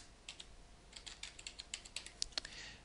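Quick bursts of light clicky keystrokes come from typing on a computer keyboard, close but quiet, in an irregular rhythm with no talk over them.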